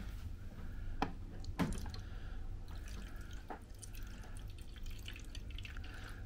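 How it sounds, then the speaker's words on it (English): Cheap one-litre bubble solution poured into a Kid Odyssey bubble machine: faint, soft liquid trickling with a couple of sharper drips near the start, quiet and close, with no talking. "I've just got some of this lovely cheapy 1 litre of bubble solution, but it's pretty good. It works very well, so let's pour some of that in."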